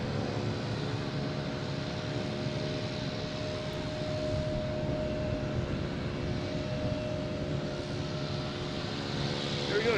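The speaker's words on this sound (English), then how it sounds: "The Emirates A350-900 coming in from Dubai, flight 237" Emirates Airbus A350-900 arriving from Dubai at Boston Logan, a continuous moderate jet hum with steady engine tones, fairly distant, faint talk underneath.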